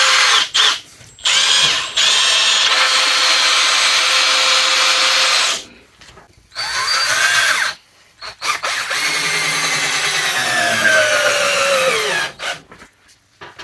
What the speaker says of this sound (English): Let's try screwing through it into another board. 3-inch screws.